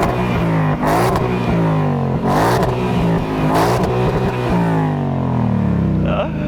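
The German V8 engine of a stationary 2022 Ford Mustang Mach 1 revs hard in repeated surges, climbing and falling in pitch, loud and close, with a few brief exclamations from people nearby.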